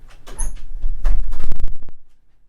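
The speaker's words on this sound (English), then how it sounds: "I'm just going to open the door." A door is opened in a small studio, making a short burst of close clunks and rattling scrapes that fade into quiet, with no speech.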